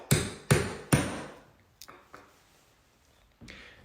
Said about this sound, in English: make sure all the nails are countersunk below the surface with a nail punch